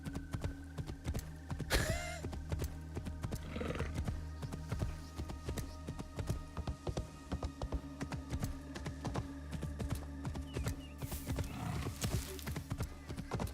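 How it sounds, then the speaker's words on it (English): A video-game horse mount gallops in a steady, rapid clip-clop of hooves, fairly close and continuous, over a faint synthetic background hum and occasional game effects. "Let's get my realistic mount, shall we? Look at my horse."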